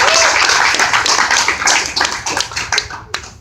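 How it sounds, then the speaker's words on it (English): An audience at a Florida Republican governor campaign event claps in a dense, loud burst of applause that gradually thins into scattered separate claps before fading out, with no talking over it. "Let's give him another round of applause."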